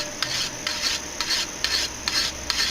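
A cheap sword blade rubbed in quick shaving strokes, five or six rasping passes in a steady rhythm, close and fairly quiet with no voices.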